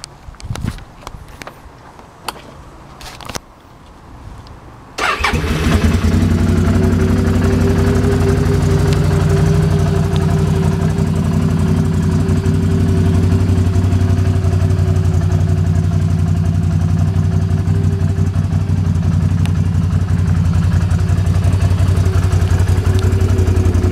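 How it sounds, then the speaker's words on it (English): A 2011 Can-Am Outlander 650 XT-P ATV cranks with a few clicks and knocks, then its engine catches and settles into a loud, steady, close idle that runs on alone for nearly twenty seconds. "All right, let's fire it up."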